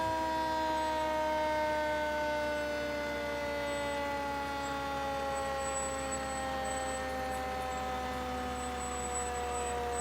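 Fire engine siren at a volunteer firemen's parade, a loud sustained wailing tone that slowly slides lower over about ten seconds, steady and close with a low engine rumble beneath and no talk.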